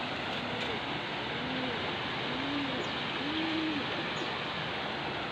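Soft racing pigeon coos repeat a few times as the bird arrives, over steady outdoor background noise, fairly faint and distant.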